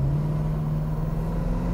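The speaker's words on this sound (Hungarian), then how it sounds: "egy rendes V8-as, automata, piros, tűzpiros, 66-os Mustangba" A red 1966 Ford Mustang with a V8 and an automatic gearbox drones at a steady, low, loud pitch from inside the cabin. The engine holds an even note rather than revving up, and no voices are heard.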